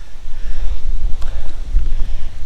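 Gusty wind buffets the microphone on a Murray River bank, with low rumbling bursts rising and falling through the clip and no talk.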